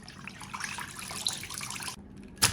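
Fish slices being rinsed and swished in clean water in a kitchen sink or bowl, a steady close splashing and trickling wash of water with a brief sharper splash near the end, no talking.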